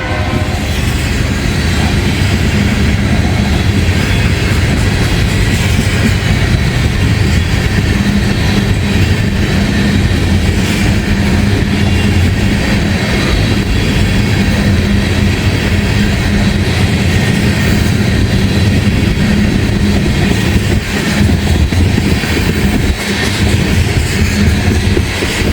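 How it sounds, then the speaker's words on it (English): A loaded ethanol freight train led by Kansas City Southern locomotives rumbles past for a long, steady stretch, heavy wheel and car noise holding constant, with a horn sounding amid the roll. "Got a loaded ethanol train here, folks."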